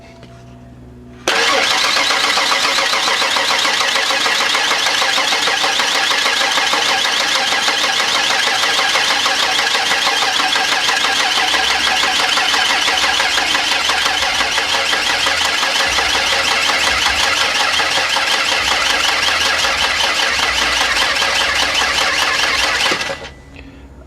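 A 1992 Ford Explorer engine catches after cranking and settles into a steady, even idle, loud and close, running continuously for over twenty seconds before cutting off, with no talking.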